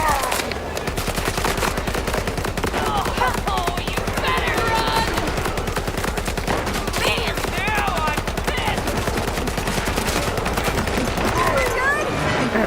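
Loud, continuous rapid gunfire from a vehicle-mounted gun in a video game, a dense automatic burst running nearly the whole time with a voice speaking over it.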